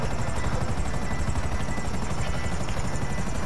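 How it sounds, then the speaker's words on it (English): A video game helicopter's rotor drones in a loud, steady, continuous chopping buzz that stays constant throughout, with no voices over it. "my helicopter's dying"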